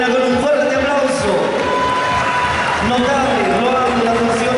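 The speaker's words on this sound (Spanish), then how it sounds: "Despedimos a nuestra reina con un fuerte aplauso" Audience applause and cheering at a 2017 communal queen coronation ceremony in Calama, steady crowd clapping mixed with voices and murmuring throughout.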